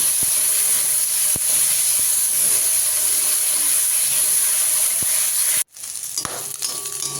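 Boiled corn and slit raw green chilies stir-fried in a pan: loud, steady sizzling hiss with occasional scraping taps, then a sudden break before quieter frying resumes.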